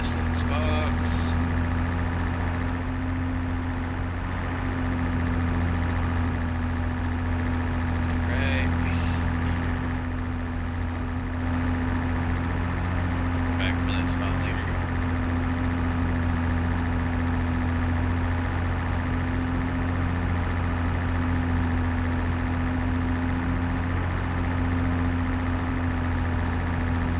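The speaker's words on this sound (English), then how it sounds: "This tractor definitely struggles a little bit more to pull this one." Tractor engine in Farming Simulator 2025 straining at low speed while pulling a very wide cultivator, a steady loud drone with a constant low hum and a faint high whine throughout.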